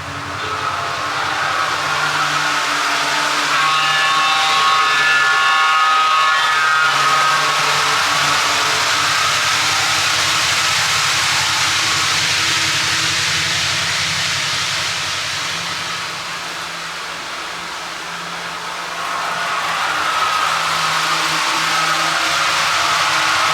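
An MTH or BLI model train locomotive runs fast around a track, giving a continuous loud whirring, hissing rumble that dips briefly before swelling back, with no talk.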